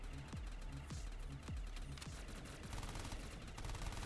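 An M60 light machine gun fires in a shooter video game: loud, dense, sustained automatic fire with sharp repeated cracks and no voices over it.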